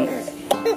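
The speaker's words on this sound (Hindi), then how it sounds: "सुलाते सुलाते आपको खांसी आ गई" A baby coughs briefly a couple of times at close range, short soft bursts with no words spoken.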